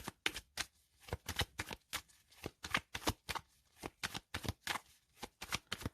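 Tarot and oracle cards are shuffled for a reading, a rapid run of crisp riffling bursts in a quick, irregular rhythm, close and fairly quiet.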